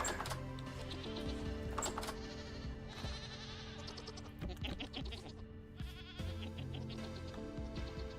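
Goats bleat in the video game Vintage Story, several loud, wavering calls that repeat and overlap close by, mixed with clicking and clattering game noises in between.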